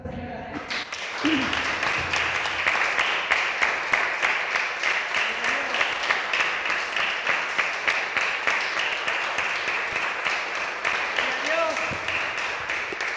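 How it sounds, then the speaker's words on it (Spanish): A church congregation applauds together in a long, steady wave of dense rhythmic clapping that holds at an even level for over ten seconds, with some voices mixed in beneath it. "Le damos un aplauso."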